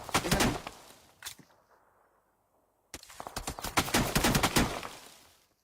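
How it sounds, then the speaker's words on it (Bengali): Rapid bursts of gunfire in a shooter game, loud bursts up front, a silent gap of over a second, then a longer dense volley of close shots. "ভাই পুরা করে ফায়ার দিও"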